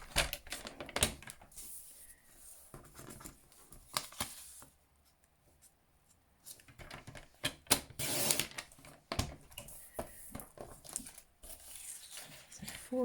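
A paper trimmer slices card on a cluttered crafting desk, with close rustling, sliding blade strokes and taps, some loud snaps and quieter gaps in between, and no talk.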